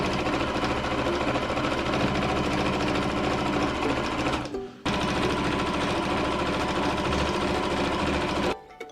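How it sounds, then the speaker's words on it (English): A sewing machine stitching layers of quilted batting sandwiched between a fabric panel and plain white fabric for a dog bed, running in a steady, loud, rapid mechanical chatter that stops briefly midway and again near the end. "Safety pin them together and start sewing."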